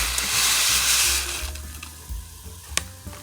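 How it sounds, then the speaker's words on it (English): Taco rice poured into a small pot of boiling water on a stovetop, giving a brief bubbling sizzle and soft pouring splash that fades into quieter simmering with a few light clinks. "I let it boil, and we're just going to add in our taco rice"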